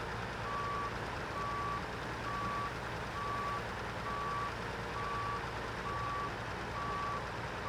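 Truck reversing alarm in the SnowRunner game, hard mode: eight evenly spaced beeps ring steadily over a constant low engine drone, with no voices.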